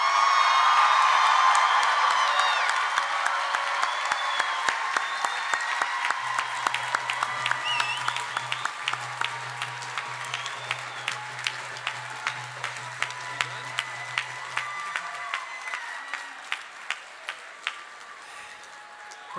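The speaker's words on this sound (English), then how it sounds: "Please honor all the bachelor's degree awardees with your applause." Audience applause for bachelor's degree graduates at a college commencement ceremony, with dense clapping and some cheering that swells at first, then thins into scattered, sharper claps as it fades over about twenty seconds.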